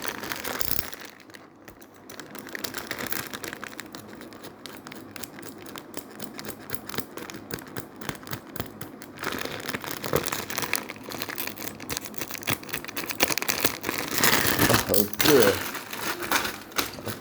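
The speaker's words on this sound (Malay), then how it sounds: "Kita akan buka bag pertama" Plastic bags of fake Lego Ninjago pieces rustle and crinkle as they are torn open and handled, with scattered sharp crackles and taps up close while a person talks over the handling.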